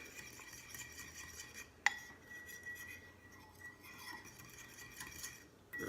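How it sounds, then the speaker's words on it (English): A fork stirs coconut oil and brewer's yeast in a bowl with soft scraping and light clinks against the sides, plus one sharp tap partway through, quiet and close. "Take a fork or a whisk. I prefer a fork because you can really get in there and make sure you break up all the clumps."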